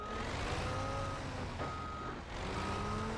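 Truck reversing alarm in the BeamNG driving game, a steady repeating electronic beep over a constant engine drone, evenly spaced and moderately loud throughout, with one brief dip near the end.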